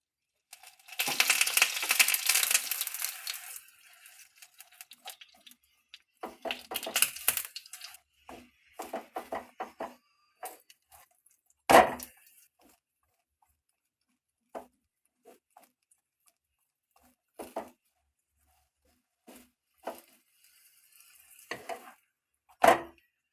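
A paratha fries in oil in a pan, with an opening burst of sizzling followed by scattered scraping and pressing clicks and short crackles, fairly faint, with no talking.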